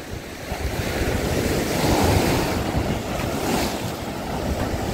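Sea waves wash onto a shore along the coast at Karolino-Buhaz, a steady rushing surf mixed with gusty wind noise on the microphone and no talking.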